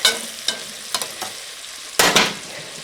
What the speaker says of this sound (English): I'm going to stir this so that the oil gets all over that